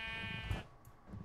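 A sheep bleats in the video game Minecraft, one short wavering bleat heard quietly over a steady background tone, with no speech.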